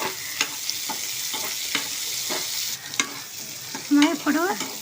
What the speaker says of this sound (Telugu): ఇప్పుడు ఇవి కూడా నూనెలో బాగా ఫ్రై అయినాయి.